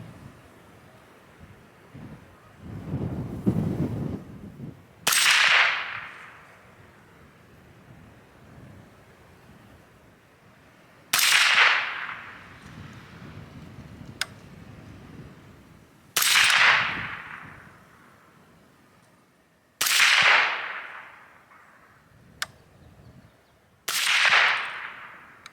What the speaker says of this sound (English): Shoot the third group here.